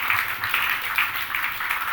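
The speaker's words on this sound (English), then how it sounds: "I want to give a big round of applause here to Philip Bowring" Steady audience clapping after a lunch talk on the Philippines, a short, even wash of many hands at moderate distance with no voices over it.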